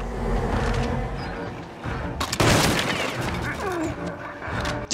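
Gunfire in the video game Little Nightmares 2: a loud burst of shots erupts midway, preceded by low rumbling ambience and followed by fading echoes, ending with another sharp hit.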